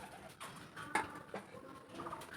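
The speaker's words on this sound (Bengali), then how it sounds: "পায়রাগুলো শব্দ করতেছে" Domestic pigeons coo softly in a few faint, scattered calls near a home kitchen where papad dough is being steamed, with low room noise between them.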